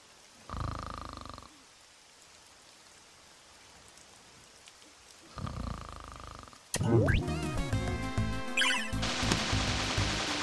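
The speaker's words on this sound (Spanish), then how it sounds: "Está roncando." A character snoring in the game Pixel Ripped 1995, heard as two spaced, rumbling snore breaths. Noisy game sounds and music build up loudly afterward.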